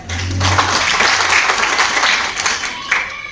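Audience applause at a Teamyouth business meeting in Ballabgarh, a short, loud burst of steady clapping from a crowd.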